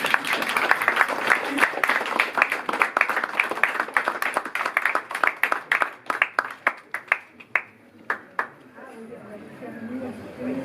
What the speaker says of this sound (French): Bon, on peut l'applaudir.